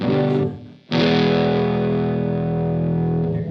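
An electric guitar played through a Big Muff fuzz pedal rings out in thick, saturated sustained chords, with a brief dip before a second loud strummed chord that holds and slowly fades.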